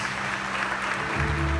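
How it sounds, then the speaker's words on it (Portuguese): Congregation in a church service applauding loudly for Jesus, a dense steady wash of many hands clapping throughout, with a low tonal hum entering near the end. "Você pode aplaudir bem forte ao Senhor Jesus, amém?"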